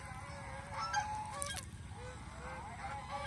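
Geese on a farm give several short nasal honks that repeat irregularly over a low ambient rumble. The calls are moderately close but fairly quiet.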